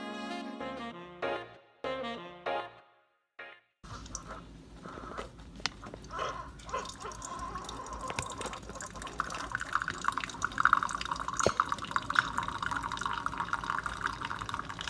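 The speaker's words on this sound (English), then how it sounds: "So you'll hear a brewing sound in the beginning and then it kind of quietens down a little while it's dispensing the coffee" A Keurig K-Supreme Plus coffee maker brewing a 4-ounce cup: a few electronic beeps, then a steady watery hiss and gurgle of brewing and dispensing that continues close by at moderate loudness with occasional drips and clicks.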